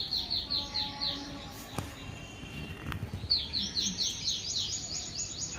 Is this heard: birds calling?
yes